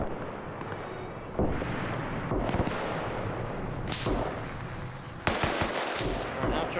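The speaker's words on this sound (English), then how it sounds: "And I hear these guys shooting too" Soldiers shooting in the video game Arma during a WW2 scenario of ANZAC against Italians in Ethiopia, scattered gunshots and distant rumbling fire over a constant battlefield din, with a few sharper nearby cracks.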